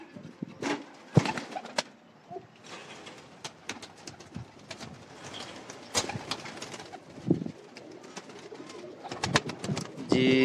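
Rampuri pigeons coo in soft repeated calls close by, with occasional wing flutters and background voices talking.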